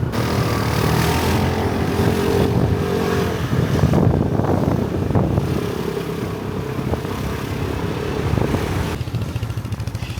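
Rented scooter ridden through traffic on Mykonos, its small engine droning steadily and close throughout, with surrounding vehicle noise and no talk.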